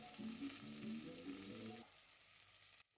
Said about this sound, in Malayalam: ഇപ്പൊ സവാള ഒന്ന് നന്നായി വഴണ്ടി വരുന്നുണ്ട്